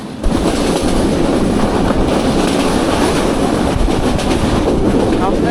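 A passenger train rolls loudly along the line approaching Abdulpur junction in Bangladesh, with continuous rumble and clatter of wheels on the rails heard from inside the carriage.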